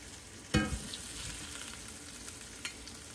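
Hamburger steaks of ground beef and sausage fry in a skillet with a steady, close sizzle and crackle. A sharp knock of a utensil against the pan comes early and a lighter tap follows later.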